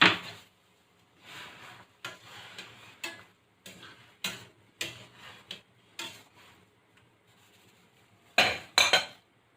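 Ingredients with tomatoes, ginger and pepper being stirred in a pot, heard as a series of close, sharp metallic clinks and scrapes of a utensil against the pot in irregular bursts, with brief quiet gaps and no talking.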